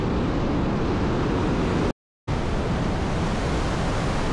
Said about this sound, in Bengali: মানে দুটো ভ্যালির মাঝখানে এত সুন্দর ওয়াটারফল যাচ্ছে